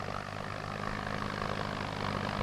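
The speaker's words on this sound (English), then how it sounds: "let's see this great new tractor in action" A steady, droning Allis-Chalmers D-14 tractor engine from 1957 runs continuously at even power, loud and close, with a low throbbing hum throughout.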